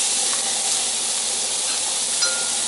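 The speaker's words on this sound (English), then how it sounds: "Got that right in the middle of the fire there. And a little sear." A T-bone steak sears on a grill set right over open fire, giving a steady, loud, close sizzle and hiss that runs unbroken throughout with no talking.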